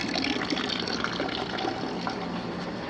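An outdoor water fountain at a 1990s Dallas townhome runs steadily, a continuous close splashing and gushing wash of water with no voices over it.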